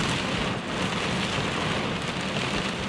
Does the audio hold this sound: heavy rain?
yes